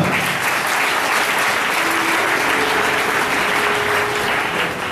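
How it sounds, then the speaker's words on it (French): A church congregation applauds, steady dense clapping close and loud, with a faint sustained tone running underneath. "Applaudissez pour le Seigneur"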